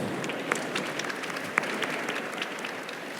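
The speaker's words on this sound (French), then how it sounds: "Jérémy Régnier, je vous laisse applaudir." A conference audience claps continuously in a dense, even patter, with a few sharper individual claps standing out near the front.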